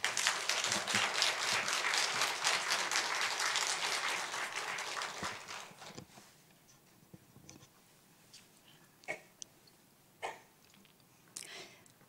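A church congregation at a Friday prayer meeting applauds to welcome the pastor: dense clapping for about six seconds, then it fades to scattered light taps and near silence.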